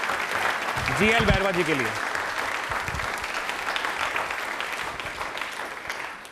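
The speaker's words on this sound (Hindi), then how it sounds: "एक बार तालियां हो जाएं" Audience applause at a Dr. Ambedkar Jayanti quiz programme, a steady wash of clapping from a crowd that continues throughout while someone speaks over it into a microphone.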